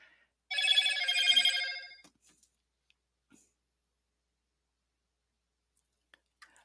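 A mobile phone rings once with a bright, warbling electronic tone lasting about a second and a half, close and clear, followed by quiet with a few faint clicks and handling sounds.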